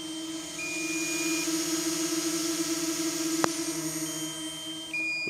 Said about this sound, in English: And once again, the sound of the drone sounds like this.